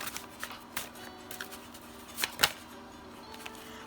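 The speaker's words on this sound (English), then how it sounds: "I'm pulling up some more cards." Tarot cards are shuffled and drawn, giving soft irregular riffling flicks and light slaps, with a couple of sharper snaps near the middle, close and fairly quiet.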